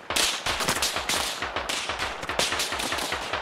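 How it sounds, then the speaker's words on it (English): Rapid gunfire in Arma Reforger, a dense, steady stream of close, cracking shots repeating several times a second for the whole stretch, with no voices. "nice suppressing fire"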